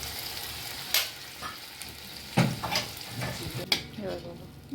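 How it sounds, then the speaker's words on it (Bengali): Fried spice paste in a pan sizzles softly, with a few sharper splashes and stirring clatters as water is poured in, the crackle rising in short bursts. "এবার দিয়ে দেবো আমি খানিকটা গরম জল, ঠান্ডা জল দিলেও হয়েছে"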